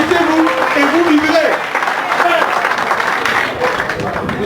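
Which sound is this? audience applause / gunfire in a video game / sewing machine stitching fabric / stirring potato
audience applause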